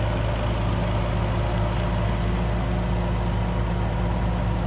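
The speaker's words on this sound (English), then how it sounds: "The 6-liter twin" A 2010 Bentley Continental Supersports 6-liter twin-turbo W12 engine idles steadily with a low, smooth rumble, holding an even level throughout with no voices.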